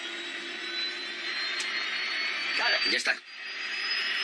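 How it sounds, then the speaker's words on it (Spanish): Jet engines of an airliner on a test flight roar steadily from inside the cockpit, a constant high whine and rush with a few clicks; a voice speaks briefly near the end. "Grabó el sonido de los motores desde dentro de la cabina. Sigue acelerando."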